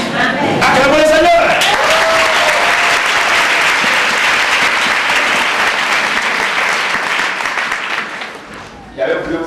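An audience at a year-end church convention claps and cheers loudly for several seconds, a dense sustained roar of applause with a few voices rising above it, which thins out near the end.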